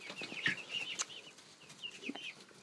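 Backyard homestead chickens, two roosters and a hen among them, cluck and squawk in short, uneven bursts close by, with brief higher calls rising over a low scratchy background.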